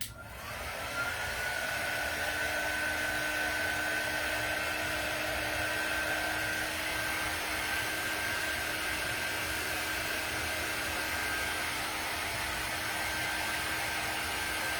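A hair dryer blows on freshly painted Valentine's wall decor, a loud continuous whooshing drone with a faint steady whine that starts abruptly and holds evenly throughout, no talk.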